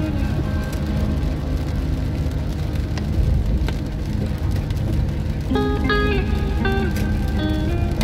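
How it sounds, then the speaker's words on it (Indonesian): Light drizzle heard from inside a car on an evening road trip from Muara Teweh to Palangkaraya, a steady soft patter and hiss of rain with road rumble, and a few tonal notes toward the end. "senja diiringi gerimis"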